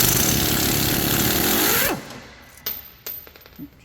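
A compressed-air impact tool loosens a brake bracket bolt, a loud continuous rattling burst lasting about two seconds that cuts off abruptly, followed by a few faint metallic clanks.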